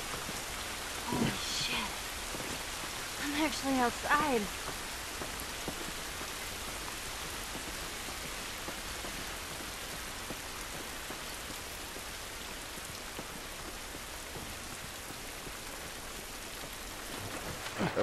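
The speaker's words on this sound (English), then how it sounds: "This rain ain't gonna do us any good." Steady rain falls heavily and continuously in the video game The Last of Us Remastered, with a few short spoken words near the start.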